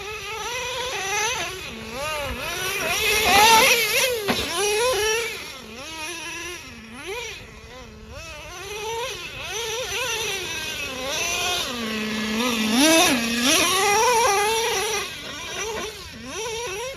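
Traxxas Slayer Pro nitro RC truck engine whining and revving as it drives in second gear, a high buzzing pitch rising and falling repeatedly, loud and close, with no talk.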